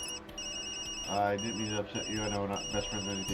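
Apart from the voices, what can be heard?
phone ringing in the video game Tokyo Dark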